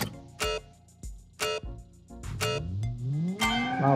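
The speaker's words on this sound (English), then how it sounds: "Wow, laggy engine, front wheel drive." A front-wheel-drive sport family hatchback with multi-link rear suspension and a laggy engine pulls away, its revs climbing in rising sweeps between repeated sharp bursts, close and fairly loud.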